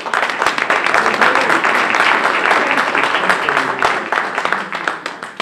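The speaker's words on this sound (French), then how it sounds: "remplacé au pied levé par Joël Arpin, qu'on peut accueillir et applaudir" At a public political meeting in Le Mans, an audience claps warmly for an arriving delegate. The applause is dense, close and slightly uneven, then fades a little toward the end.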